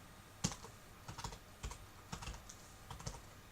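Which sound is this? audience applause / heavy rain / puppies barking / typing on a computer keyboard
typing on a computer keyboard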